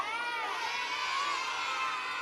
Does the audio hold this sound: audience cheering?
yes